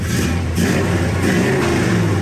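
A 1966 Chevelle SS convertible engine revs up and holds at a high, steady drone around 2,500 RPM, rising slightly in intensity, close to the microphone with no talking.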